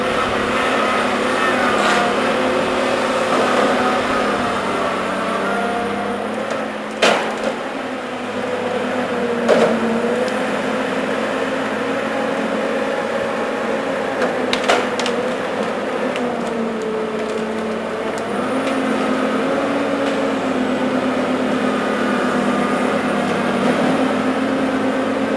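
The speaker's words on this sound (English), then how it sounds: "Picking up some brush now and just dicing it up and dropping it in the trail." A forestry machine picks up brush and chips it in a winter hardwood forest. Its engine drones steadily and loudly throughout, with a few sharp knocks and crunches along the way.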